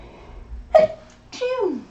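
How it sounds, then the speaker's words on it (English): One person sneezes sharply and close by, followed moments later by a short, wavering vocal sound. "and I'm going to have a sneeze."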